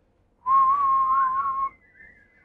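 A person whistles one clear, sustained tone in imitation of birdsong, lasting just over a second with a slight waver before it cuts off and leaves a faint trailing whistle.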